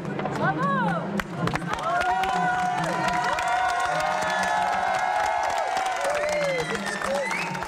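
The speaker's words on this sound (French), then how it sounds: "un tonnerre d'applaudissements et même une standing ovation pour la barbière" Thunderous applause and cheering for a female barber, dense clapping and crowd noise running loud and steady throughout, with tonal voices and whoops rising over the mass of claps.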